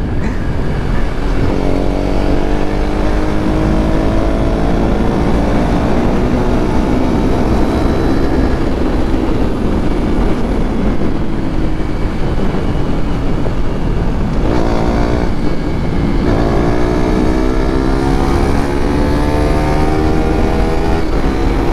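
A KTM RC 390 and a KTM Duke 250 motorcycle drag race, their engines roaring loud and continuous with rising, shifting revs throughout.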